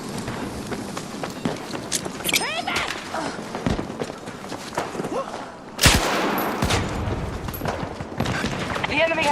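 Battlefield 2042 combat on PS5: a grenade explosion bursts loudly partway through, amid ongoing gunfire, footsteps and voices throughout.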